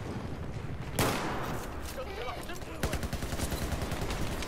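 Shotgun blasts in the video game Battlefield 4, two sharp reports about two seconds apart followed by a rapid crackle of gunfire, set among noisy battle ambience with voices talking.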